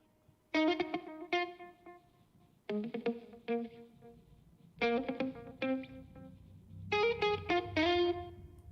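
A guitar sample at its original pitch plays as a few short, distorted, chorus-washed plucked phrases, each a quick cluster of bright notes separated by brief gaps, clean and unaccompanied.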